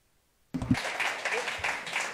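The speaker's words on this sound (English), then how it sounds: "A big round of applause for them" Applause from an audience greeting robotics contest winners, starting abruptly after a near-silent moment and continuing as steady, moderately loud clapping, with a few voices mixed in.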